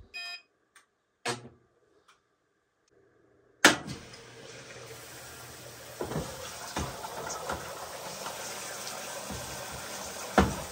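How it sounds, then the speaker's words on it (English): An Amana washing machine on a normal cycle fills with warm water: a few brief beeps and clicks, then a sudden steady rush of incoming water that keeps going under scattered small knocks. "I will run a normal cycle, it fills with warm water."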